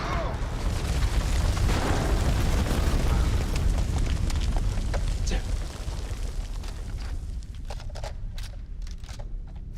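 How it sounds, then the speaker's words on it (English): A grenade goes off in the House of Ashes video game, a dense, rumbling blast that fills the first half loudly before easing into lower rubble and scattered debris crackles, with game voices around it. "A grenade. Grenade!"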